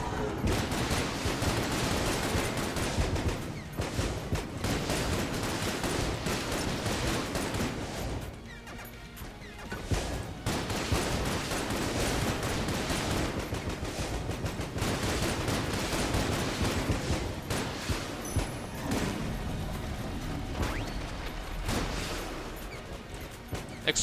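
Dense, continuous gunfire and explosions from the Enter the Gungeon video game, loud and nearly unbroken for the whole stretch, with rapid shots layered over booms and crashes and only a brief dip in the middle.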